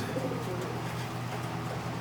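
Racing pigeons coo softly inside a loft, a low steady murmur of several birds close together under constant ambient noise, with no speech.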